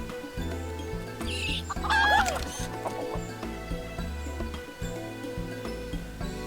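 Chickens clucking in the video game Final Fantasy XIV during the Hatching-tide 2022 event, a steady low clucking rhythm with a brief bright squawk partway through over a continuous ambient game backdrop.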